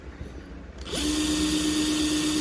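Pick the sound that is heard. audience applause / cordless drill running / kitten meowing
cordless drill running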